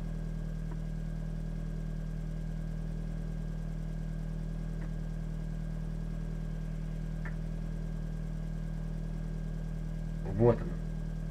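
A vehicle crossing a field in Farming Simulator 15 drones with a steady, close engine hum at constant speed, and one short bump near the end.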